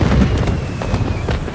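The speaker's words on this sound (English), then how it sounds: "the fireworks. They're lit." Fireworks bursting in the video game Marvel's Spider-Man 2, a dense run of loud booming crackles packed close together over a rumbling background, with no talking.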